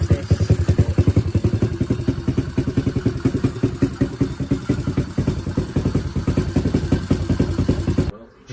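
An upgraded pit bike engine runs loud and close on a short street ride, a rapid pulsing motorcycle putter with clattering mechanical rhythm throughout, cutting off near the end.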